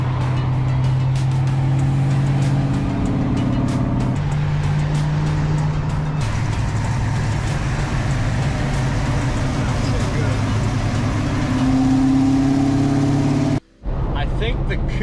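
A white 1990 or 1991 Foxbody Mustang GT carrying a 427 engine rumbles past at a car cruise in eastern North Carolina, a loud, steady low drone with shifting engine tones, voices chatting over it, then a brief cutout near the end.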